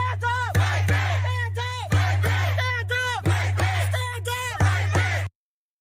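A large crowd of protesters in Kansas City, Missouri chants and yells together in a steady rhythm. The voices are loud, close and sustained, with repeated shouted phrases that stop abruptly at the end.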